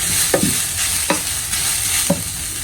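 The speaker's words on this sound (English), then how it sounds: "I just want to fry this for a little bit" Vegetables for samosa filling frying in a pan, a steady close sizzle broken by three scraping stirs of a utensil, with no one talking.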